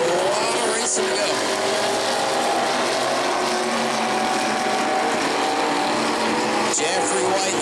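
E-Mod race cars roaring around a dirt track, a dense steady engine drone with cars swelling past, under an announcer's commentary.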